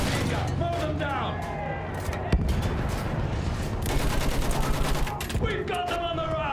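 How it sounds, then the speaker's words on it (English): Rapid machine gun fire rattles through a World War I battle in Battlefield 1, dense bursts of shots mixed with explosions and shouting voices throughout. "Use that machine gun! Mow them down!"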